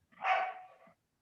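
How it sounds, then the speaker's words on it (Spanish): One short, strong bark from an agitated dog near a home prayer gathering, a single loud burst that fades within a second, with no voices. "Uy, está fuerte el perro"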